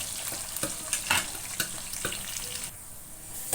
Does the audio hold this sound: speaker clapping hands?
no